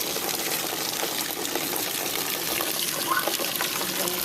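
Water gushing from a garden hose into buckets, a steady broadband splashing rush that stays fairly loud and constant throughout, with no talking.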